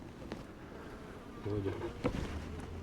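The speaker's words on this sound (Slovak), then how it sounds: "Ak sú tam včely, tak povedz, či som ich zabil." Honeybees buzz in a low, steady drone around a Flow Hive outdoors, faint against soft background noise, with a few brief handling knocks.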